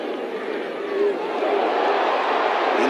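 A football stadium crowd at a Southern vs Alcorn State game roars steadily before a field goal attempt, a broad loud wash of cheering and shouting that swells slightly midway.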